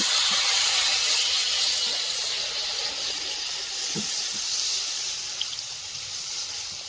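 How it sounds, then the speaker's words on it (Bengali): A steady, loud sizzling hiss fills the pan as water is poured over fish already sautéed in a home kitchen, with a few faint clinks underneath and no talking. "মাছটা কষা নিল, এবারে জল ঢেলে দেব।"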